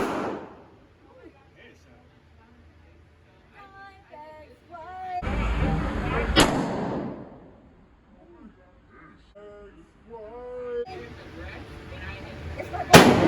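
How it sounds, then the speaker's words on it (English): Gunfire at an outdoor shooting range: two or three sharp, loud single shots spaced several seconds apart, with people talking between them. "Then when you're ready to fire, then you put your hand on the trigger and you just let it go."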